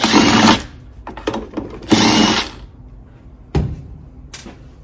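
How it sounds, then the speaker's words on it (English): A power drill or driver spins off the carburetor nuts on a Stihl BR450 backpack blower that won't start, in three loud, close whirring bursts with quieter handling noise between them. "I'm going to take the 2 nuts off of the carburetor"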